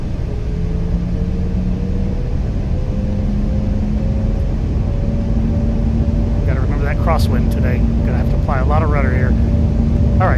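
Embraer E195 jet engines in X-Plane 11 spool up for takeoff, a steady rumbling roar with rising whine tones that climb in pitch as thrust builds, while a voice talks over the engine noise partway through.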